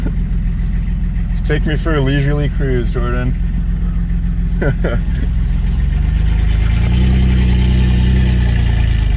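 Volvo 240 engine running as the car pulls away slowly, a low steady drone that swells and rises in pitch toward the end, with a person speaking briefly over it early on.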